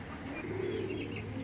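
Racing pigeons coo softly in a low, rolling murmur with faint chirps, quiet and close amid steady background hum, with no talk over them.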